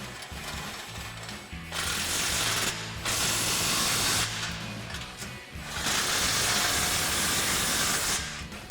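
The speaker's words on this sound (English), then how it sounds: "come in with our 14mm socket and tighten down our clamp here" A ratchet wrench with a 14mm socket tightening an exhaust clamp on a 2.7L EcoBoost F-150 single exhaust system, giving loud, fast bursts of metallic clicking in two long runs with short pauses between, close up and with no talk.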